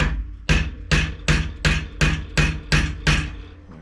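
A ball-peen hammer strikes metal on metal, driving out a stuck handlebar clamp bushing on a 2022 Husqvarna 501FE dirt bike: eight sharp, loud, evenly spaced blows, close by, with no talking.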